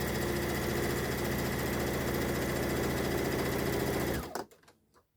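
A sewing machine runs in one continuous steady buzzing burst while stitching a fabric scrunchie, then stops abruptly near the end, leaving a few faint clicks and handling sounds.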